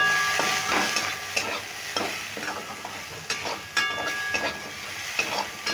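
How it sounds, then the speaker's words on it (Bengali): Jackfruit seeds are stirred and fried in the leftover oil of a wok, with a steady sizzle broken by repeated sharp scrapes and clinks of the spatula. "কাঁঠালের বীজটা আমি একটু নেড়ে ভেজে নিলাম"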